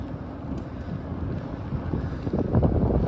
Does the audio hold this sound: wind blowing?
yes